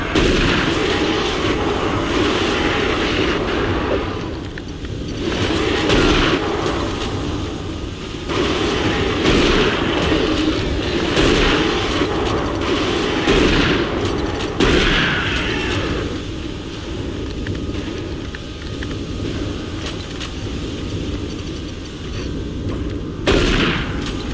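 Rapid bursts of Doom 3 video game gunfire, including a shotgun, mixed with booming explosions, loud and dense for the whole stretch, with brief lulls between volleys.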